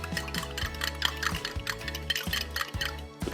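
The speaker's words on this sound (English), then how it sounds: "You want to mix it up until all the cornstarch is dissolved." A fork whisks cornstarch into a small amount of liquid in a bowl, making quick, steady clinks and scrapes against the sides. The sound is close and continuous, with no voices.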